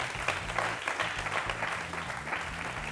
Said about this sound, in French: Merci aussi de l'applaudir.